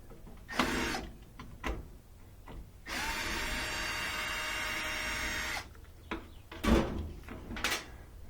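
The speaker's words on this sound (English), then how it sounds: "I'm going to take out a few screws to get this panel off." Phillips head screws being backed out of a panel on a Whirlpool dryer with a power driver, a steady whirring run of about three seconds between sharper clicks and handling knocks, close by with no talking.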